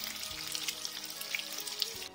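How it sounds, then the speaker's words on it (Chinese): Meat-stuffed tofu pan-fries in hot oil over medium heat, producing a quiet, steady crackling sizzle with scattered pops and no talk. "期间一直用中火慢煎，不可以用大火"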